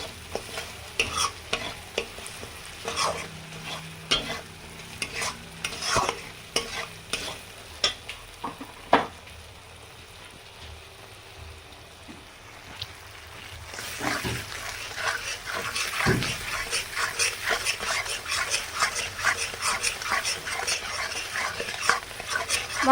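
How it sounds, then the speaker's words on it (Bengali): Spice masala with coriander powder fries and is stirred in a pan for tangra fish curry, a steady close sizzle broken by repeated scraping spoon strokes that grow busier and louder toward the end. "এবারে ধনের গুঁড়ো দিয়ে দিলাম আর মশলাটা ফের ভালো করে কষিয়ে নেব।"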